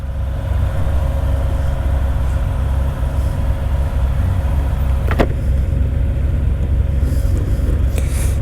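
A four-cylinder Honda motorcycle engine idles close by, a steady rumble, low and constant, with a couple of brief sharp clicks partway through.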